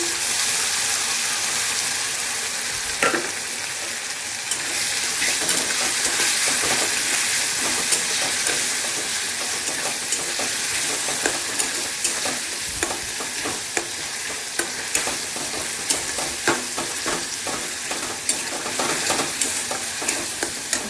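Ginger-garlic-chili paste and tomato fry loudly for mutton kosha, a strong steady sizzle close to the pan. Frequent scraping stirs and utensil taps run throughout, and nobody talks.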